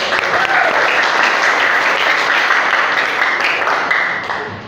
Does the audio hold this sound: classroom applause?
yes